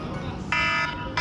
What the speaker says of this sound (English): Once this alarm goes off, then we can start fishing.